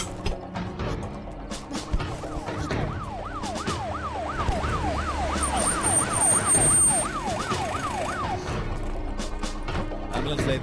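Ambulance siren wailing in a steady rising-and-falling cycle over busy street noise during a scene from a Tamil-dubbed action comedy film, loud and continuous with background commotion.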